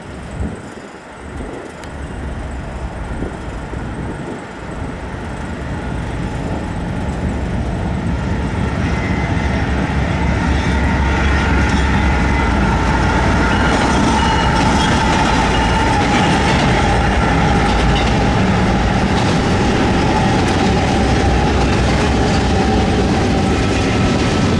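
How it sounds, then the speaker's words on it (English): A Norfolk Southern 29P freight train led by two GE GEVO locomotives passes on the Chicago Line. Its rumble swells from moderate to a loud, sustained roar, with wheels clattering over the rails and no voices. "Norfolk Southern 29P materialized out of absolutely nowhere with a duo of bean sniffer GEVOs"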